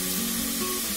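Two finely chopped tomatoes hitting a hot pan for tomato bagara rice set off a loud, steady sizzle and frying hiss, close and continuous, with no voices.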